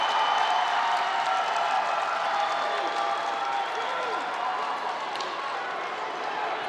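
A high school basketball crowd in a gym cheering and clapping after a three-point play, a steady murmuring roar of many voices and scattered applause heard at moderate distance, under a commentator's voice.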